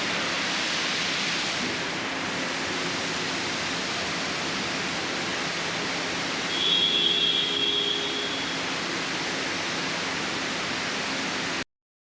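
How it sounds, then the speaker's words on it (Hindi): A steady, loud hiss of compressed air cleans the air filter of a Honda Amaze during its second service at a workshop, continuing unbroken for several seconds. "एयर फिल्टर क्लीनिंग हो रही है गाड़ी के"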